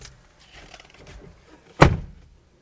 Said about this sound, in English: Let's close the doors and see if anything else pops up.